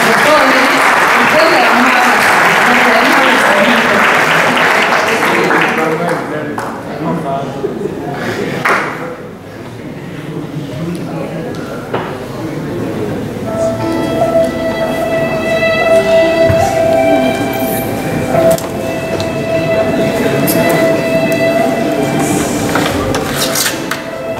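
Audience applause greets young volunteers from a psychological center at the launch of an expressive therapies program and theater school. Dense clapping fills the first several seconds, then thins out beneath voices and other room sounds.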